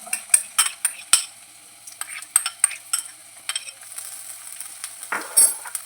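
Chopped onion sautés in a pan for rava upma, a dry sizzle broken by sharp scraping taps of a spoon against the pan at irregular intervals, close and fairly quiet, with no talking.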